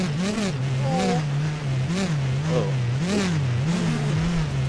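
Snowmobile engine in the MX Bikes racing game bogging down at low revs, a steady droning hum that surges and sags in repeated waves, loud and continuous with a voice talking over it.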